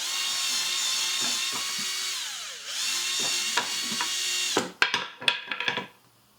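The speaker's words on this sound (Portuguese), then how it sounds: "Vou abrir mais um pouquinho aqui o nosso furo." A power drill widens a hole in a clothes hanger with a sustained high whine that dips briefly mid-run, then gives way to a few short bursts and clatters before stopping.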